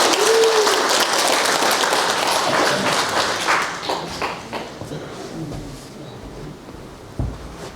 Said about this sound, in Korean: 3일 동안 수고하신 우리 목사님 환영으로 박수로 환영하도록 하겠습니다.